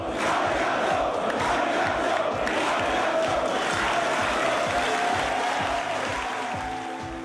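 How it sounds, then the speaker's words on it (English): An American pro wrestling arena crowd chants for Kenta Kobashi after his match, a loud sustained roar of many voices that fills the hall with rhythmic pulses and barely fades by the end. "The match ends with chants of arigato, arigato from the American crowd."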